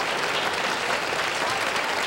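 Studio audience applause from a television game show, a steady dense clapping wash filling the whole stretch at moderate level, with no voices over it.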